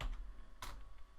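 Computer keyboard keys tapped a few times at a command prompt, with a short, faint burst of typing close by and no talking.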